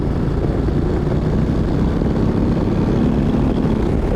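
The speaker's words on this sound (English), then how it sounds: "The exhaust sound is great." A Harley-Davidson CVO Road Glide ST motorcycle exhaust with a loud, continuous low rumble, steady and close with no voices.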